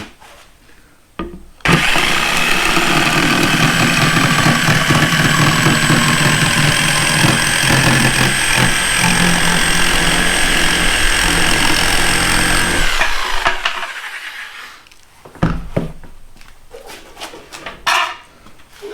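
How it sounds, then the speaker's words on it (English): A reciprocating saw buzzes loudly and steadily through a plunge cut in wood for about eleven seconds, then cuts off, leaving a few clatters and handling knocks. "That is how you do a plunge cut with a reciprocating saw."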